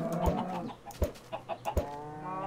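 Minecraft chickens cluck in a short series of sharp, close bursts during gameplay, with a tonal game background underneath.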